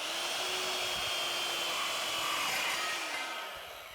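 A metalworking tool cuts through an aluminum slab for floating shelf hardware, giving a steady, loud, close-up whirring hiss that holds evenly and then fades toward the end.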